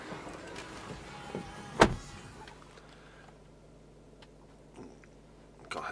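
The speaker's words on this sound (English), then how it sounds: "electric and folding mirrors, fully electric seats with memory" Electric folding door mirrors on a Mercedes-Benz ML250 2.1 CDI diesel SUV whir briefly, heard close and faint inside a quiet parked car, with a sharp click midway and soft mechanical ticks around it.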